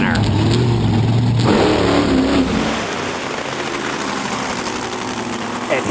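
The Quad Chaos monster truck roars loudly, its engine revving with rising and falling pitch during a vertical wheelie at an indoor monster truck show in Saginaw's Dow Events Center, then dropping to a lower rumble. An announcer talks over it.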